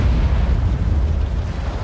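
A tank cannon fires in World of Tanks: one heavy, close boom with a long rumbling tail that fills the whole moment.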